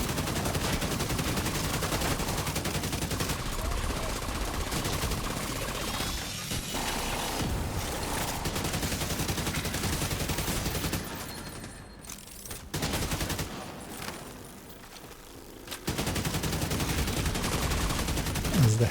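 Sustained gunfire in a video game shootout, dense overlapping shots and bursts going almost nonstop with a brief lull before resuming loudly.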